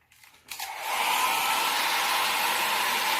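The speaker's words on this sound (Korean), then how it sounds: "드라이기로 빨리 말려볼까요?" A hair dryer clicks on and quickly ramps up to a steady loud whirring blast, used to dry a watercolor landscape painting on paper in an art class.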